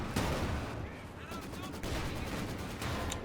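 Soviet guns fire on enemy light armor in a Company of Heroes 2 multiplayer battle, a dense, continuous roar of gunfire and heavy shots, with someone talking under the din.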